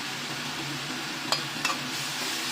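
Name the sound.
stirring yellow chives frying in a pan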